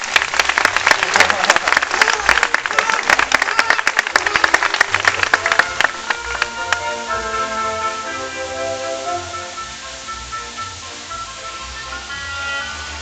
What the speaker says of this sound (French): Quelques applaudissements pour Paco.